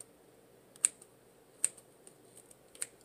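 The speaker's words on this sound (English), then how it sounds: "I'll just snip them away like so" Scissors snip stray frizzy pieces from synthetic ringlet curls, giving three crisp, quiet clicks spaced about a second apart, with a few fainter ticks between them over a low hiss.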